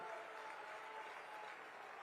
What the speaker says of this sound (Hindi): फिर से एक बार चंदौली की भूमि के लिए जोर से ताली बजाकर स्वागत करिए जरा।